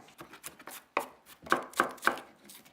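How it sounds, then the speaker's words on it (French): A knife slices through a spring onion on a board in a quick run of about eight crisp, close cuts, irregular at first and then evenly spaced, with no talking. "l'oignon nouveau. Donc là, je coupe les deux extrémités. J'enlève la première peau. Je vais l'émincer."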